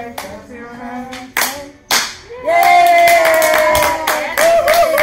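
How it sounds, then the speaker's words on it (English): Children clap their hands along to a sung nursery song, a few scattered claps followed by rapid clapping under singing voices. "If you're happy and you know it, clap your hands."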